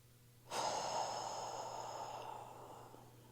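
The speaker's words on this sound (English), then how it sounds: "One more time, one more big breath." A single long, deep breath during a beginner yoga stretch, a sudden inhale-exhale that starts strongly and slowly fades over a few seconds, heard alone and close with a steady low hum behind it.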